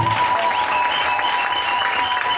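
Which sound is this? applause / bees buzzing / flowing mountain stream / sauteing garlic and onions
applause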